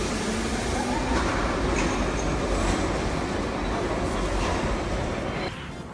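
A metro subway train rumbles loudly and continuously underground, a dense roar of wheels and carriage noise that eases slightly in the final moments.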